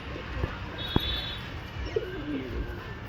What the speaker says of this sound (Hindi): और एक ये कबूतर है मद्रासी